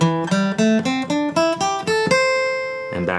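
Guitar playing a pentatonic scale in fifth position, ascending note by note in an even rhythm and ending on a held, ringing note; close and clear, with no talking.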